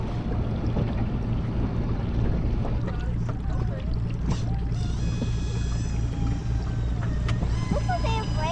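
Small boat towing a larger fishing boat out of an Alaskan harbor near a salmon hatchery, its steady low engine drone running throughout with water wash, while people talk and faint higher tones drift in now and then.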